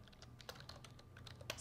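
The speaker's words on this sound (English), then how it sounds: "I can just start typing." Typing on a computer keyboard, with quick, light key clicks in an irregular rhythm, very faint and close, with no talking.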